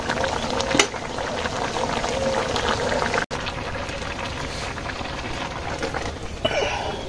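Curry gravy simmers and reduces in a pan with cumin paste added, giving a steady bubbling, sizzling hiss throughout, with a brief clatter near the start and a short break in the middle.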